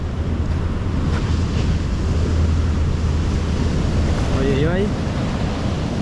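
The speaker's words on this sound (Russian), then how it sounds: "Ууу, какие волны." Sea waves surge and break along a windy shore in Turkey, a loud continuous roar with heavy wind rumble on the microphone and a brief voice near the end.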